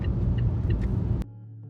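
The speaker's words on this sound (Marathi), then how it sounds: "फॉगमध्ये गाडी चालवण्याचा एक्सपिरियन्स वेगळाच असतो" A car drives slowly along a road through dense fog, a steady low engine rumble and road noise filling the first second before cutting abruptly to a quieter hum with faint ticking.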